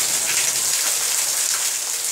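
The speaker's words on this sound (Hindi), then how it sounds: "आज तो बारिश हो रही है बहुत जोर की" Heavy rain pours steadily and loudly, a dense, even hiss of drops striking surfaces close by, with no voices over it.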